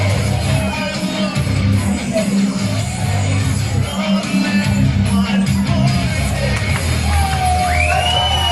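A wrestling crowd at a Hex Pro Wrestling show cheers and whoops for returning fan favourite Sam Hawks, a loud, sustained roar of many voices with yells rising throughout.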